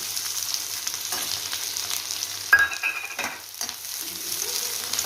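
Chopped large onion hits hot oil in a pan for chicken masala, a loud close sizzle and frying hiss with stirring scrapes, briefly dipping before resuming.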